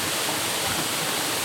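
Lulumahu Falls in Hawaii roars with a steady, dense rush of water, close and loud throughout, with no pauses.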